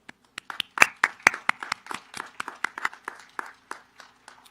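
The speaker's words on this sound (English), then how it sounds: "I think you all deserve a round of applause." A round of applause for graduates at a 2020 commencement ceremony: a small group clapping unevenly, with distinct, fairly close individual claps that thin out and fade toward the end.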